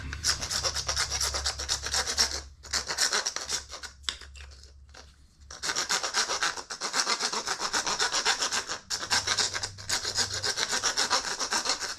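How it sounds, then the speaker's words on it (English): A rasp files wood for a shrimp gun in loud, rhythmic back-and-forth strokes, with a brief pause partway through. "I'm actually using a rasp and not a file, but it's close enough."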